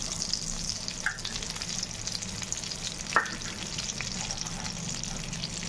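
Homemade desi ghee sizzles steadily in a kadhai on a gas stove, a close, even frying hiss with a couple of brief clinks.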